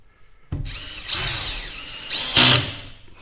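Power drill driving fine-threaded screws into shiplap boards on a mountain cabin wall: the motor whirs in two short bursts with rising and falling pitch, loud and close, with no talk.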